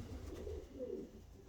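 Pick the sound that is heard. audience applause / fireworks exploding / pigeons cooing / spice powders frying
pigeons cooing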